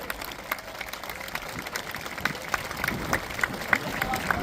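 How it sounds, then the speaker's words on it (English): Crowd applause and scattered clapping at a Red Arrows Armed Forces Day air display by the sea, a steady wash of hands with crowd murmur and occasional louder claps, heard from within the audience. "Let's give everybody a massive round of applause for the heart and our National Armed Forces."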